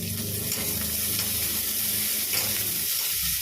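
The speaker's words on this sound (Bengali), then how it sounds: "উচ্ছেটা ভাজা হয়ে গেলে তুলে নেবো পটলটাও ভাজা হচ্ছে" Bitter gourd and pointed gourd sizzle and crackle steadily as they fry in hot oil, a busy constant hiss up close with no talking.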